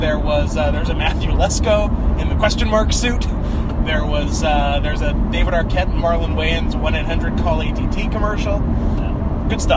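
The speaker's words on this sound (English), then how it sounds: "we're in the car. That's why it sounds like this." Steady loud road rumble inside a moving car in Wilkes-Barre, Pennsylvania, a constant engine and tire drone filling the cabin beneath two people chatting throughout.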